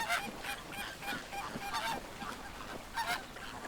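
A crèche of flamingo chicks calls on a lake, a dense chorus of honking, goose-like cries rising and falling in overlapping bursts at moderate distance.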